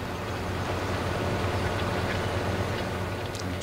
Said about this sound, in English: I honestly thought the train only ran that one direction.